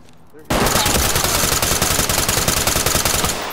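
Full-auto gunfire in the Ready or Not tactical shooter, a sudden loud burst of rapid automatic shots that starts abruptly and rattles on continuously at close range.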